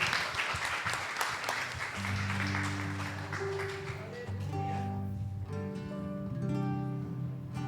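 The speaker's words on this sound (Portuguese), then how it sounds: "A salva de palmas ao Senhor." A church congregation at a Christmas service claps in a brief burst of applause that fades after a couple of seconds as sustained worship music rises and takes over.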